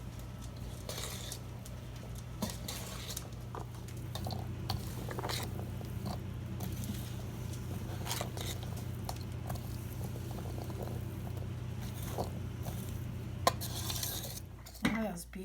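Shredded pasty filling being mixed in a bowl, with a steady run of scraping, clinking utensil strokes and soft wet tumbling over a low background hum, close and fairly quiet throughout.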